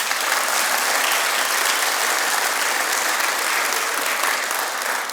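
Loud, sustained applause from a luncheon audience at an alumni award event, dense clapping filling the room evenly for several seconds with no voices over it.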